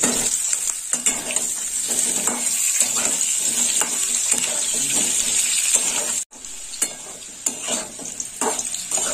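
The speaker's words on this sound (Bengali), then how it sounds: "আলুগুলো একটু লাল লাল করে ভেজে নেবো।" Potatoes crackle and sizzle in hot oil, a loud continuous fry broken by stirring scrapes and a brief pause partway through.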